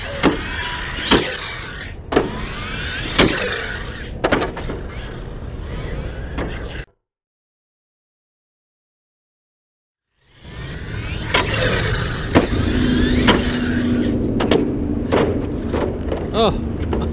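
An Arrma Infraction 6s RC car is driving on its first run, a whining electric motor with sharp knocks and bumps. The sound cuts out briefly, then returns with a sustained tone. Faint voices come and go.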